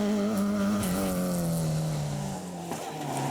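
2.5 litre Ford Escort rally car on a stage, engine note loud and close, holding a steady drone, then shifting pitch as it changes gear and eases near the end.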